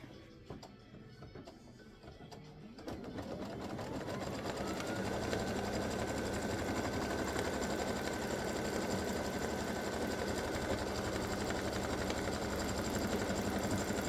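An embroidery machine runs a tack-down stitch securing the bottom fabric of an in-the-hoop stand-up display piece, a steady continuous whirring hum with a rising motor tone, loud and close, with no talking.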